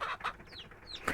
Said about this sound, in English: Oh, there's a big chicken.